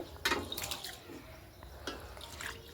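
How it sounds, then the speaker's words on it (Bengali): Rice being rubbed and rinsed by hand in water, producing soft, quiet swishing and splashing bursts close by, with no speech. "দেখো প্রথমে আমি চালটাকে খুব সুন্দর করে ধুয়ে নিচ্ছি ভালো করে জল দিয়ে কচলে কচলে ধুয়ে নিতে হবে"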